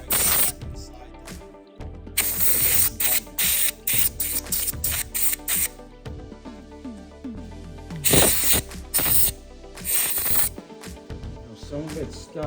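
Compressed-air blasts blow debris out of a Ricomas 2002 8S embroidery machine in repeated sharp hissing bursts of varying length, loud and close, with brief quiet gaps between them.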